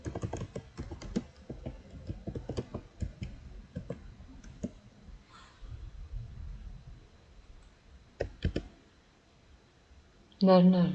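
Computer keyboard keys clicking in bursts of fast typing during practical programming coursework, close and crisp, with a person talking over much of it and a louder thump near the end.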